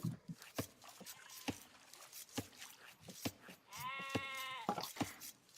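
Age of Empires sheep let out a clear in-game bleat amid sharp clicking and unit sounds at a low level.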